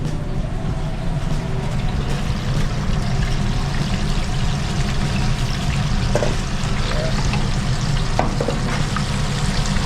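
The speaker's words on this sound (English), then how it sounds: "now she's gonna put it in the fryer" Seasoned, flour-coated shrimp deep fry in a fryer, a loud, dense, continuous sizzle and bubbling of hot oil that fills the whole stretch, close up and steady, with faint clinks here and there.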